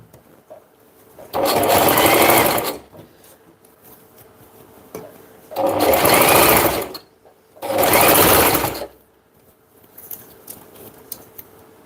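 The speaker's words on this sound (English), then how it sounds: "I'm gonna stitch it by 1/2 inch." A sewing machine stitching fabric in three loud, steady whirring runs of about one and a half to two and a half seconds each, close up, with quiet pauses between them and no talking.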